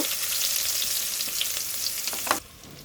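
Onions frying in hot oil in a pan for a Bengali fish curry with radish greens, eggplant and potato: steady dense sizzling throughout, with light stirring scrapes, then dropping quieter near the end.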